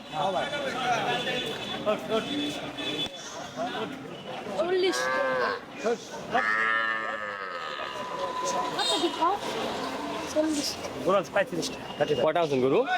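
Sahiwal calves moo and bleat repeatedly in a noisy cattle market, the calls rising over constant crowd chatter and people talking nearby.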